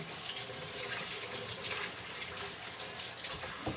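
Steady rush of tap water running into a sink during handwashing while preparing a rotisserie chicken, a continuous close, even hiss with slight splashing variations and no talk.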